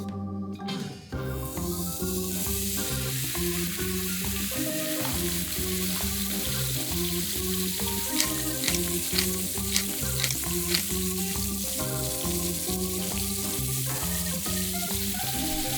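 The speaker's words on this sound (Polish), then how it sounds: "więc bierzemy się za smażenie" Steady, loud sizzling of smash burger patties frying in a large hot pan with a little oil, a continuous crackle and hiss with a few sharper pops, no talking.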